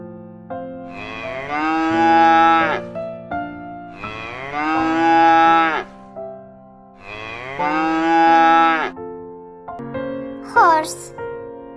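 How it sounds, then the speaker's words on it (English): A cow moos three times in long, loud, drawn-out calls separated by short pauses, followed by a briefer rising cry at the end. "Cow."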